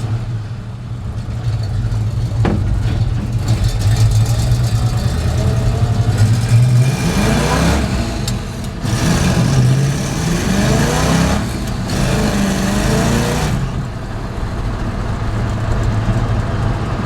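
Engine of an old Chevrolet C10 pickup, parked for ten years and revived, running steadily while driving with a low drone and rising, swelling revs as it pulls hard, loud and close throughout.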